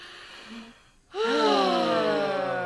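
A single deep breath, drawn in sharply and loudly up close after a brief quiet pause, with a faint earlier hum before it.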